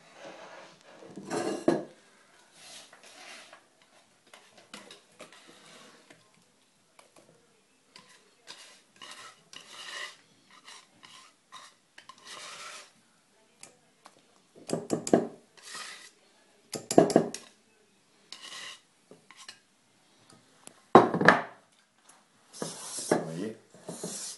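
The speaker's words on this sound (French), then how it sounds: "avec ma main, je tourne le saladier et de l'autre main, je tourne dans l'autre sens" A mixture for stracciatella stirred in a salad bowl while the bowl is turned by hand, giving sparse clinks and scrapes in irregular bursts with long quiet gaps between them.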